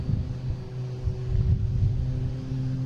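Southwest jet engines spool up at the gate on a night airport apron, a steady low rumble and hum with faint tonal whine, moderately distant and continuous, no talking.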